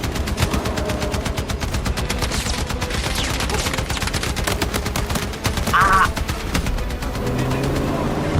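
Sustained rapid machine gun fire in Battlefield 6, a dense unbroken stream of loud close bursts over battlefield noise with a brief voice partway through.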